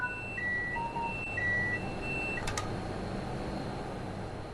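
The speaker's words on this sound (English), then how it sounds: "The tilt alarm will sound for a second time" A tilt alarm in the train cab of the Train Sim World 5 game sounds as a series of short electronic tones, over a steady engine rumble, then a brief double click.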